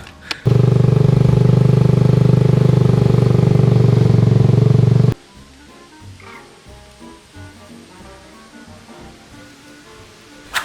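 A motorcycle engine drones loudly and steadily for several seconds, then cuts off abruptly, leaving quiet outdoor background with faint distant noises.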